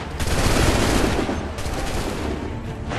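Massed musket volley from a firing squad in the Assassin's Creed III video game, a loud dense crackling burst of overlapping shots filling the whole moment, with a second volley following partway through.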